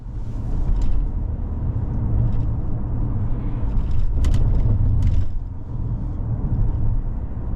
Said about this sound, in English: we're out on the road in this 25 Corolla Cross LE all-wheel drive